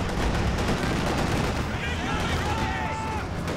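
A Katyusha rocket artillery barrage in a strategy video game: a dense, continuous roar of impacts and rumbling blasts, with thin whistling tones rising over the din partway through.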